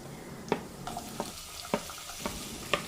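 Vegetables sautéing in a pan for a brinjal and potato curry, with a spoon scraping and stirring at a steady rhythm of soft clicks over a faint, low sizzle. The sound is close and quiet, with no voices.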